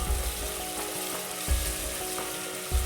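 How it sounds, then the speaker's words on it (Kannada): Ginger garlic paste fries in a pan with a steady, hissing sizzle, close and even, broken by a few dull thumps from stirring. "ಇವಾಗ ಶುಂಠಿ ಬೆಳ್ಳುಳ್ಳಿ ಪೇಸ್ಟ್ ಹಾಕೋತಾ ಇದ್ದೀನಿ. ಒಂದು 2 ಸ್ಪೂನಷ್ಟು ಹಾಕೊಂಡ್ರೆ ಸಾಕು. ಹಸಿ ವಾಸನೆ ಹೋಗೋ ತನಕ ಫ್ರೈ ಮಾಡ್ಕೋಬೇಕು."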